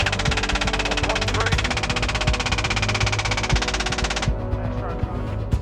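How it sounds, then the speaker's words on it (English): A GAU-17 six-barrel rotary minigun fires from a helicopter in a loud continuous buzzing burst that cuts off abruptly near the end, leaving the heavy thump and drone of the helicopter underneath. "This GAU-17 minigun is a 6-barrel rotary machine gun"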